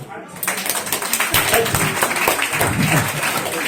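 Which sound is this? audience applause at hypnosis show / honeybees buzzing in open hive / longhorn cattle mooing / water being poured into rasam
audience applause at hypnosis show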